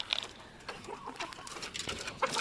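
Texas gamecock roosters clucking in a backyard, a string of short, scattered clucks and chirps at moderate distance over steady ambient noise.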